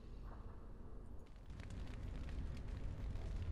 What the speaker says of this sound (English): Lots of fire.